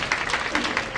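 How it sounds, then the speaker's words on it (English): Short snatch of audience applause at a panel on air freight transport, a quick run of claps over about one second, close and moderately loud. "Let's give him a round of applause,"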